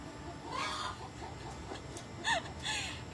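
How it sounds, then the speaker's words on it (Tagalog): A farmyard hen cackles after laying an egg, giving a few short, clucking calls at moderate distance with a sharper squawk near the end, over faint background noise. "Oh, nagputak na naman."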